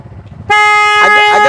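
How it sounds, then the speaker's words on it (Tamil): A vehicle horn sounds on a road in Jaffna, a single loud, sustained honk of over a second that begins abruptly after quiet murmuring, with a slight wavering near the end. "கோன் அடிங்கோ"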